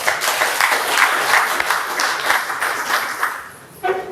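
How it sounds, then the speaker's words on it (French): Audience applauding at a Beti cultural gathering, a dense, steady wash of clapping from many hands that runs evenly for about four seconds before briefly dipping and resuming. "Merci d'applaudir pour cette dignité qui s'ordonne."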